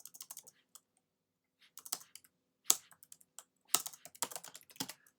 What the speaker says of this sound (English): So let me just type that out.